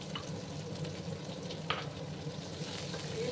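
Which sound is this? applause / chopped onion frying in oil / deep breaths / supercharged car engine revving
chopped onion frying in oil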